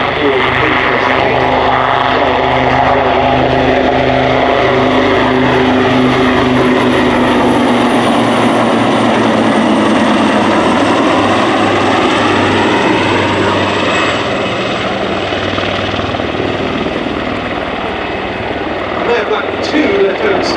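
Royal Navy Wildcat helicopters flying a display at RIAT airshow, a loud sustained rotor and turbine roar with shifting Doppler pitch as they pass and move away, under continuous commentary over the public address.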